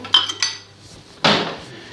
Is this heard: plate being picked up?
yes